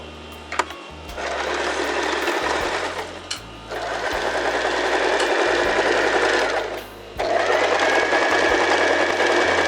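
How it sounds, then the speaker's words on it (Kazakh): Sewing machine stitching the seams of a fabric face mask, a busy whirring rattle in three long runs separated by brief pauses, close and steady. "И отстрачиваем вот этот шов и вот этот шов"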